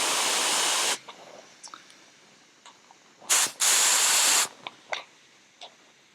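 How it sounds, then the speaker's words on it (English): Compressed air hisses hard into the bleed nipple of a Kart Republic WPK kart brake caliper to blow the piston out, two loud sustained bursts with a brief gap between them, plus a few small clicks and faint handling sounds. "we're just going to add a little bit of air pressure into the nipple that we just loosened off, and it should just explode out of the housing"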